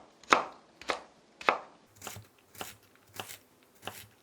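Knife chopping thick slices of an ingredient on a cutting board for a Korean soy-sauce fried chicken dish: seven crisp, evenly spaced chops, the first three sharper and louder, the rest slightly duller with a thud.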